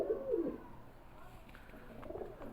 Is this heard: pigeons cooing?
yes